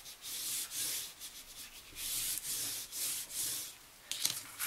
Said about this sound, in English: And burnish it down so you've got a good hold there.